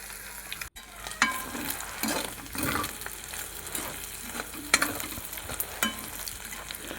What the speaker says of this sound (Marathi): अंडी फोडून टाकलेली आहेत आणि त्याच्यानंतर हे तेलामध्ये चांगलं व्यवस्थित परतून भाजून घ्यायचं.